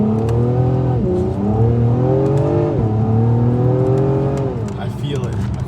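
A 2021 Acura TLX Type S accelerates hard with its front wheels spinning, the engine note climbing and dipping through several shifts, loud and continuous, with people talking over it inside the car.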